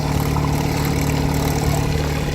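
Small 1960 Johnson 5.5 HP outboard motor idling on a boat drifting down a river, a steady loud low-pitched putter with an even throbbing rhythm and water wash mixed in.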